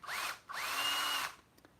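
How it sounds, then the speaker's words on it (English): A power drill bores out die-cast rivets on a Freightliner FLD 120 truck model, with two close, whining bursts, the second longer than the first, in an otherwise quiet space. "you actually have to drill these out, which isn't a big deal"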